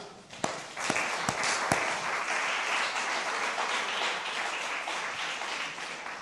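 Church congregation bursts into applause, a few sharp separate claps at first giving way to a thick sustained wash of clapping from many people.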